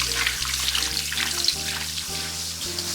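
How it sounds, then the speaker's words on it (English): Warm tap water runs steadily over konnyaku being rinsed in a kitchen sink for Japanese miso soup, a close, continuous splashing hiss with no talk. "You can remove the smell by rinsing the konnyaku for about 30 seconds in warm water from the tap."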